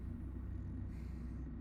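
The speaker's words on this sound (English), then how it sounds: "I'm fairly sure that is a diesel engine frequency that you can hear" A faint, steady, low diesel engine rumble drones continuously with no clear changes in pitch or level.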